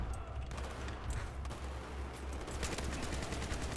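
Rapid automatic gunfire from a CBZ rifle in the Battlefield 4 Shanghai campaign, sustained bursts and fusillade-like crackle running steadily throughout, loud and close, with dense low rumble underneath.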